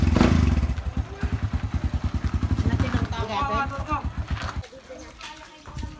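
A Kawasaki Barako motorcycle on a kolong-kolong sidecar rig runs close by with a rapid, thumping single-cylinder beat, then fades. Someone talks briefly over it.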